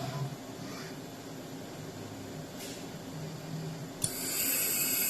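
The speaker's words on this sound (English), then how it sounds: "The burrs are going to start milling that crown out." Planmeca in-office milling machine running burrs to mill a dental crown, a steady mechanical whir and hiss that shifts to a brighter, louder high-pitched grinding tone partway through, with no talking.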